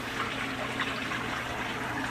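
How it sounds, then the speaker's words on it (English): Water rushing steadily into a residential water heater tank through an opened valve during a residue clean-out, a continuous close turbulent fill with no voices. "And water is coming in."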